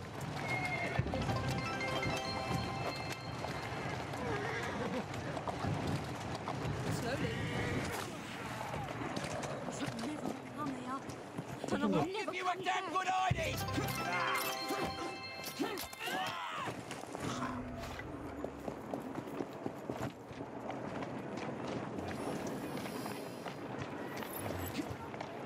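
Horse in Assassin's Creed Syndicate running on hooves and neighing, game sounds filling the stretch at a steady loudness, with people talking over the top and a short quieter break partway through.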